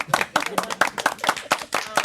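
A room of people at a county social services board meeting clap in a brisk, uneven burst of claps that lasts the whole moment, with no talking over it.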